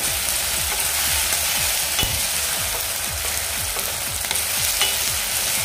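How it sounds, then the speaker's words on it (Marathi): Softened tomato and onion in a frying pan, stirred with a spoon in quick repeated scraping strokes over a loud, steady sizzle up close. "पुन्हा एकदा हे सर्व मिक्स करून घेऊया"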